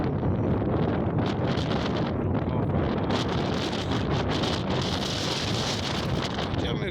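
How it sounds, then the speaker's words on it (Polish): Strong wind blows across a hilltop on the way to an old, forgotten oil well site, roaring steadily into the microphone with loud rumbling buffeting and gusts that swell and ease throughout. "wieje jak skurczy"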